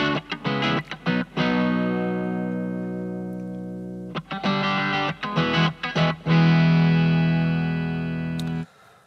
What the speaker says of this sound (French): donc c'est le son de l'ampli Vox qui est ici avec la guitare passant dans l'ampli Vox.